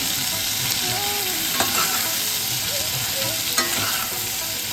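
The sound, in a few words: ridge gourd and potato frying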